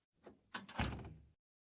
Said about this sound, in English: You silently walk over to the creaky wooden door and gently close it